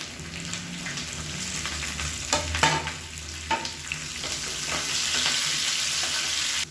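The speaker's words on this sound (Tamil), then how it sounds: "இதோட ஒரு கைப்பிடி அளவுக்கு சின்ன வெங்காயம் சேர்த்துக்கலாம்." Small shallots fry in hot oil with popping mustard seeds and curry leaves, giving a steady close sizzle that swells as they are stirred, with scraping stirs and a few sharp crackles and no talking.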